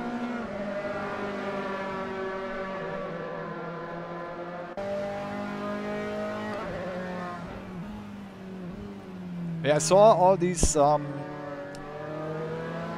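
Formula 3 race cars in a sim racing video game, engines droning steadily with rising and falling pitch harmonics as a pack passes, under ongoing talk, with a brief louder burst of screeching tones near the end.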